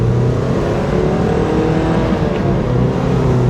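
A limited-edition Mazda Miata accelerates on the road, its engine note rising in a steady, buzzy pull heard from inside the car, with road and wind noise beneath and no talking.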